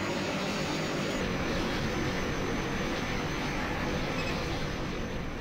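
A MiG-21 jet in the flight game Vector Thrust roars with a continuous broadband engine rush, steady and loud throughout, with no talk over it.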